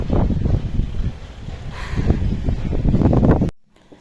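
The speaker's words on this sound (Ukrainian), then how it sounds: "Сильний вітер." Strong wind buffets the microphone in loud, rumbling gusts, then cuts off abruptly near the end.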